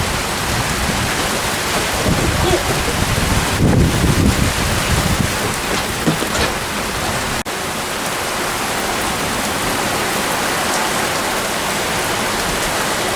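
Steady heavy rain falling outdoors at a home, a dense continuous hiss with wind buffeting the microphone, brief low rumbles and a sharp crack partway through.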